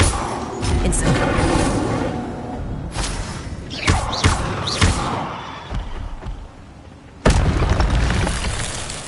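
Incendio fire spell cast in Hogwarts Legacy, heard as loud bursts and whooshing booms, with several sharp hits and a big final blast near the end, set over dense game sound.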